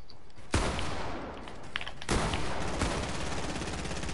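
Bursts of submachine-gun fire in a squad-based shooter game, loud and dense, with two sharp onsets and a steady crackling barrage that continues throughout without any voices.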